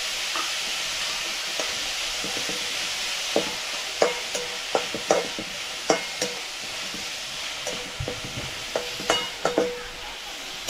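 Onions frying in oil on a street-stall griddle for egg bhurji keep up a continuous sizzle, punctuated by a run of sharp, irregular spatula taps and scrapes.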